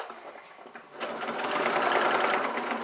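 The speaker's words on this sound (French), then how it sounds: "je vais faire une couture au point droit à 1 cm du bord dans chaque angle" Sewing machine sewing a straight stitch about 1 cm from the edge across the corners of a faux leather pouch, a steady rapid whirring hum that starts softly and then runs louder and continuous.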